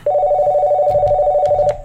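A telephone rings loudly and close in one continuous warbling electronic tone lasting under two seconds, with faint knocks and rustles beneath it and no talk.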